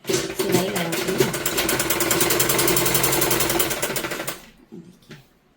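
A sewing machine runs fast and steady, stitching a sleeve onto a simple suit in a rapid even clatter for about four seconds, then stops abruptly, leaving quiet room tone.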